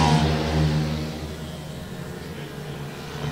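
Pit bike engines at a race at Lydd, 140 class, revving hard as the bikes pass on the track: a mid-pitched engine whine sweeps past, loud at first and then fading to a steady drone.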